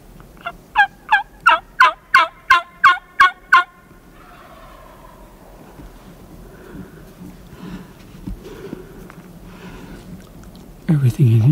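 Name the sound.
wild turkey gobbling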